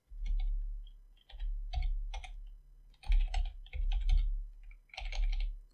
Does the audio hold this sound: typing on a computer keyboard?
yes